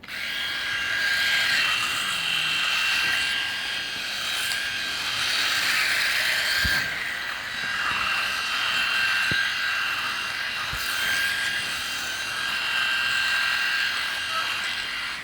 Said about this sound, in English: These rotary style shavers, that's kind of one of the tricky things that we get.